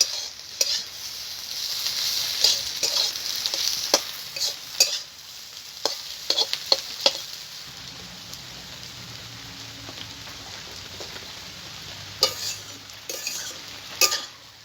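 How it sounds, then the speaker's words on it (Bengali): Potato filling for egg paratha frying in a pan, a steady close sizzle with repeated sharp scrapes and clinks of stirring, a lower bubbling texture joining midway. "একসঙ্গে আবার একটু ভালো করে ভেজে নেব।"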